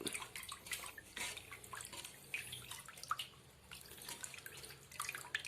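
Papaya seeds being rinsed under running water, the tap flow with irregular splashes and drips, moderately close and fairly quiet, with no talk.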